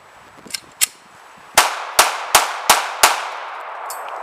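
AK rifle shots fired into an Xbox 360 with the red ring of death: a couple of faint early pops, then five sharp, loud cracks in quick, evenly spaced succession, each with a short ringing tail.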